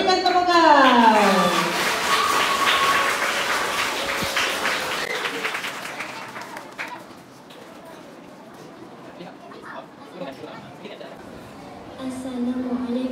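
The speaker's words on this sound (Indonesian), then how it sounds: "Berikan tepukan." Class applause for a group of Year 3 pupils at a school arts presentation, a dense wash of clapping at first that thins and fades, with children's voices and chatter over and after it.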